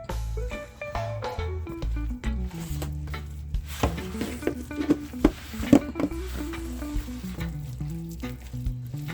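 A cup of flour is stirred into a Jamaican sweet potato pudding mixture, with soft scraping and wet stirring strokes that become more pronounced midway, all under continuous background music.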